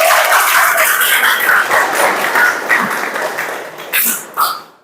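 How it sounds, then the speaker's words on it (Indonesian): A group claps together on cue during a clapping game led by a teacher, loud dense clapping that holds steady, then breaks into a few sharper separate bursts near the end. "tepuk tangan dulu"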